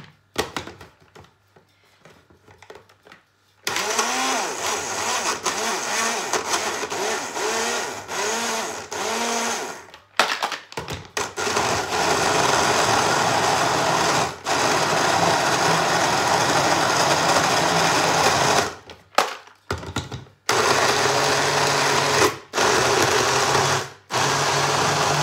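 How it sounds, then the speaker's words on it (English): A blender whirs loudly while blending a milk smoothie with coffee. The motor runs in long bursts with short pauses, pitch wobbling as the thick mix churns, after a quiet opening. "And then we shall blend."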